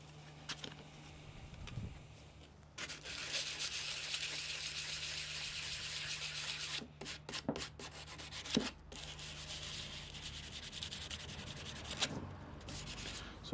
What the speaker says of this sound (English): We'll start off with the sandpaper